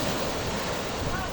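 Sea waves washing steadily along the seaside shore at Mabini, Batangas, a continuous broadband wash with wind noise, heard briefly and without talk.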